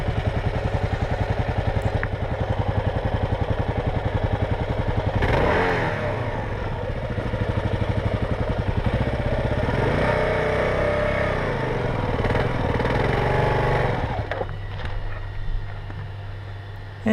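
A motorcycle engine stalling on a hot day climbing a mountain pass, its steady idle chugging through a surge of revving before the engine cuts and dies away near the end.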